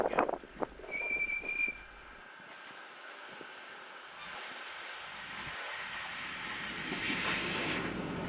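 A little steam locomotive hauling compost wagons on a small railway hisses steadily, with a brief whistle-like tone near the start and the broad hiss swelling louder toward the end.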